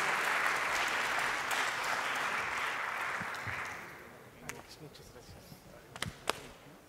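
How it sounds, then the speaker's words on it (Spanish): An audience at a conference gives a loud round of applause for a guest lecturer, dense clapping that fades after about four seconds into scattered claps, a few thumps and voices talking. "Un fuerte aplauso, por favor,"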